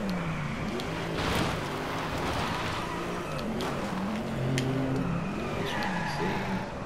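A Hennessy Venom GT drifting on the Nakasendo track in Japan in the game Driveclub, its engine droning at a steady moderate level with shifting pitch and faint tyre noise, no talking.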